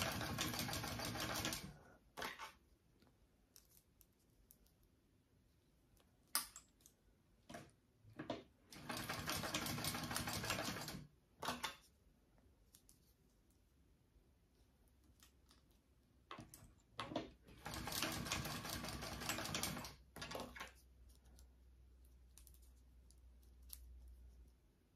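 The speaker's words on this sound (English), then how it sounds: "sew this bottom edge just to connect them all together real quick" Bursts of a sewing machine stitching the bottom edge of a handbag to join rectangle rings, close and quick, with quiet gaps and small clicks between runs.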